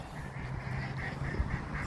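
Ducks quack faintly in a short series of calls on a Minnesota lake, distant and soft over low background noise.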